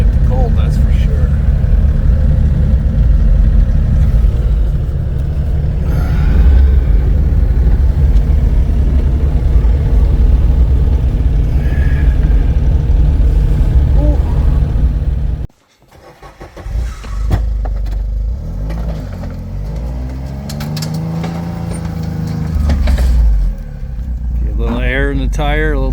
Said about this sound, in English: Bringing in the excavator for 500-hour service